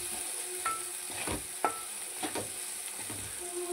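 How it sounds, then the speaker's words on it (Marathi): Fried tomato and onion being stirred with turmeric, salt and masala in a pan, with a soft sizzle and a few light scraping strokes of the spoon spaced across the moment, close and fairly quiet. "त्यात टाकूया आपण आता हळद मीठ मसाला, ते छानपैकी हलवून घेऊया"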